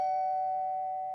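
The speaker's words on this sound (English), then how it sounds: "Doorbell rings once again." A doorbell in a creepy video game sounds as a single sustained electronic tone, clear and steady for about a second with nothing else heard.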